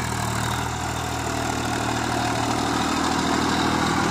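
A Massey Ferguson 241 Planetary Drive tractor engine runs at a steady idle, a loud, constant low rumble throughout with no voices.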